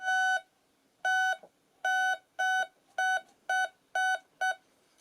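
Garrett metal detector sweeping over a test gold piece, sounding eight short electronic beep tones in an uneven, quickening rhythm, clear and close with no talk.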